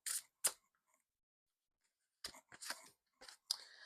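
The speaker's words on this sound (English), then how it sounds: "Let's shuffle again." Tarot cards shuffled by hand in short bursts, with a couple of quick crisp snaps, a pause of near silence, then a cluster of riffling card flicks, close and clear with no voice.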